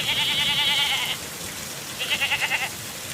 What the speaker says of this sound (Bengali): ওই দেখো হারান কাকা গরু বাছুর ও ছাগল নিয়ে বাড়িতে যাচ্ছে